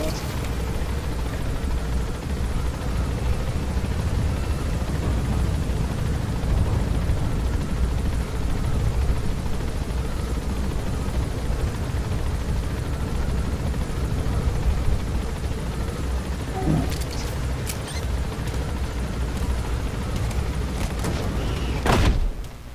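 A helicopter in the video game Metal Gear Solid V drones steadily as it gains altitude, a continuous rotor rumble with a few sharp knocks and thumps near the end.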